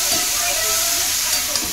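Okra sizzles steadily in a hot pan on low gas, a continuous close frying hiss with a faint stir or flip near the end and no talking.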